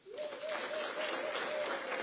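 Audience applause at a tourism and hospitality policy launch, moderately faint, dense clapping rising quickly and holding steady, with a sustained tonal whistle or voice running through it.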